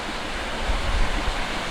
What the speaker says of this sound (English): I can just make out the running water down there.